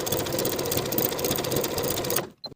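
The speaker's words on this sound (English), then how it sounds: "edge stitching close to that original seam, sewing the pocket to its seam allowance." Sewing machine edge stitching a pocket to its seam allowance on a knit dress: a steady, close, loud mechanical whir that runs nonstop, then cuts off abruptly with a brief click near the end.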